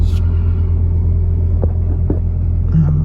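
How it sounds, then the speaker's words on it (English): Steady low engine rumble runs throughout, a 2008 Toyota Estima E-Four X Hybrid engine starting and idling close by, with a few faint clicks and knocks over the drone. "the engine started on its own"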